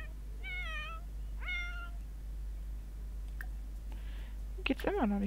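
A video game cat meows twice with drawn-out, wavering cries, a softer sound follows, then a sharper third meow at the end, all over a constant low hum.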